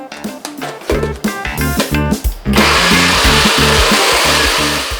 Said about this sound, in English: I'm going to blend it up. Looks good to me. And in our trusty NutriBullet.